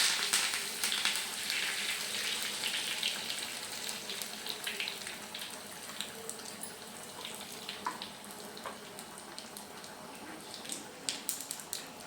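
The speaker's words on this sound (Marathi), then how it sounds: "बघा जिरे तडल्यावर याच्यामध्ये कढीपत्ता घालायचा आहे" Cumin seeds and curry leaves frying in hot oil in a pan, a steady bright sizzle and crackle with occasional sharper pops, close and continuous, with faint talk underneath.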